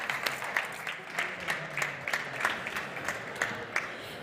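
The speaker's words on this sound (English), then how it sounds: "Please help me give a warm round of applause to" Conference audience gives a welcome round of applause for the panel host, Talent Garden's Chief Strategy Officer Rasa, heard as scattered, fairly light clapping with distinct individual claps standing out.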